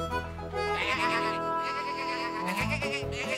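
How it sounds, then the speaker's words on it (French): Cartoon sheep bleat loudly and repeatedly in drawn-out, wavering cries, several animals overlapping close by. "Oh non, ce sont les moutons."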